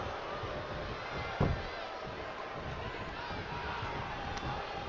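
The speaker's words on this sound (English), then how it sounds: "The sound of this crowd is deafening, and he's asking for more." A wrestling arena crowd keeps up a steady, dense roar of cheering throughout, heard from a distance with no distinct voices standing out.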